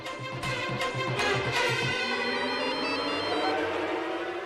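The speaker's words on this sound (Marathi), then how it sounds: "फोन बराच वेळचा वाजत होता" An electronic phone ringtone chimes in a repeating melodic pattern, fairly close and clear, its tones fading out in the second half.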